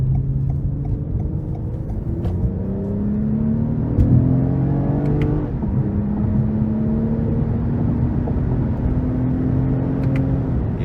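A 2023 Toyota Camry TRD V6 accelerating under throttle, a steady close engine drone rising in pitch through a gear change, then settling into a sustained pull over road rumble inside the cabin.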